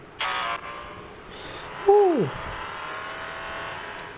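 Need for Speed No Limits mobile racing game audio: a steady synthetic car engine drone runs throughout, with a brief swooping tonal effect midway and a short burst near the start.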